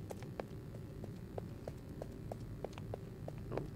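Footsteps in the Poppy Playtime video game, a steady sequence of sharp, hollow-sounding thuds at an even walking-to-trotting pace, moderately close over a low background hum.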